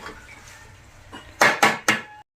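Spicy chicken fry stirred in a metal pot, three sharp scraping clanks of a spoon against the pot in quick succession after a quieter stretch of low kitchen noise, close and fairly loud.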